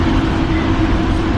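Tri-Rail commuter train in South Florida heard from inside a car while riding on the tracks, a steady loud low rumble and rattle with no pauses or talk.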